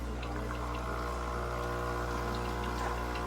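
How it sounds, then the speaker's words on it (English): A Jura ENA4 coffee machine runs its pump in a steady, continuous hum, with water flowing through it during first-time setup. The sound is close and even throughout, with no talking. "you can see the water draining"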